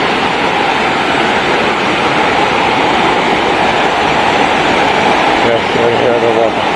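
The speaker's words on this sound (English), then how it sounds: "It's a beautiful falls." Maranum Falls, a waterfall in the Philippines, roars loudly and steadily in a dense broadband rush close to the microphone, with a brief faint voice near the end.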